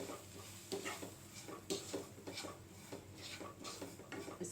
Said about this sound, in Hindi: इस रवे को हम इस वेजिटेबल्स के साथ में एकदम से मिक्स कर देंगे।